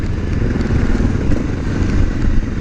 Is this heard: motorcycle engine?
yes